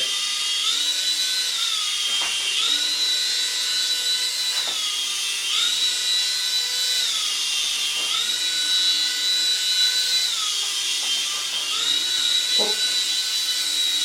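A small toy helicopter bought from AliExpress flies indoors with a steady high-pitched motor whine and rotor buzz that rises and falls in repeated cycles, loud and close throughout with no talking.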